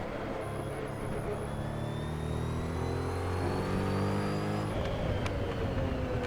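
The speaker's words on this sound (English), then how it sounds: "Just a wonderful, harmonious howl from that engine." A Porsche 917K race car engine in Assetto Corsa howls continuously with layered harmonic tones, holding a steady loud drone and rising slightly in pitch before a brief shift near the end.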